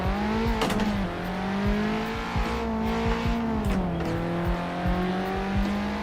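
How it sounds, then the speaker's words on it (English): A 1960s race car in the Assetto Corsa racing game, driven on a mountain touge road at night, revs hard and steadily with a strong engine note that climbs and dips through tight gearing, loud and close throughout. "Let's see what these 1960s cars can do."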